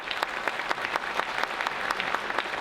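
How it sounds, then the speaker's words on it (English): A banquet crowd claps steadily at an annual chamber meeting and membership dinner held in a hotel, a dense patter of hands filling the room for a few seconds with no voices over it. "give a round of applause"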